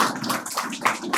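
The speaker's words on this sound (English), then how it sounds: "Please give them a clap." Audience clapping at a nursing college convocation, a soft, steady patter of many hands heard from a distance, fairly faint and without clear peaks.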